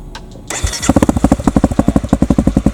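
A Honda CRF250L Rally motorcycle engine starts and settles into a loud, rapid, throbbing idle with a pulsing free-flow exhaust note, close by.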